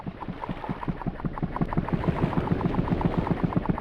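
An engine trying to start up in the video game Myst, a rapid rhythmic chugging pulse that steadily grows a little louder, mechanical and gurgling, with no talk over it.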